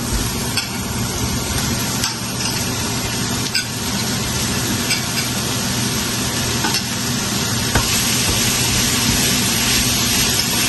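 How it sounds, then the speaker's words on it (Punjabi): Onion frying in a pan for stuffed bell peppers, with a loud, steady sizzle and occasional stirring scrapes heard up close, continuous and unbroken with no voices. "ਹੁਣ ਆਪਾਂ ਇਹਦੇ ਵਿੱਚ ਪਾ ਦਾਂਗੇ ਪਿਆਜ਼"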